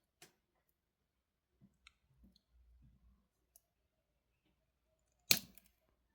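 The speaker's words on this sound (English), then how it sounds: "let's see if it snips" Cutters snipping a metal necklace chain, with a single sharp close snip near the end after a few faint scattered clicks and handling noises in near silence.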